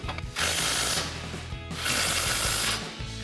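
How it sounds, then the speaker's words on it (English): A 17 mm socket wrench tightening two bolts on a Tacoma super wide bull bar gives two close, quiet runs of rapid ratcheting clicks separated by a brief pause. "we can come back and tighten down our two 17 mil with our 17 mil socket"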